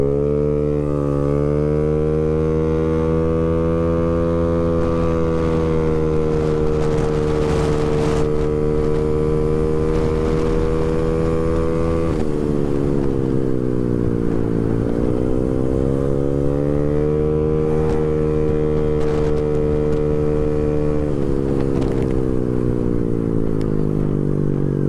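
A 115cc Honda Beat motorcycle with a racing exhaust drones steadily at high speed with a raspy note, pitch dipping briefly as it shifts gear, wind rushing throughout.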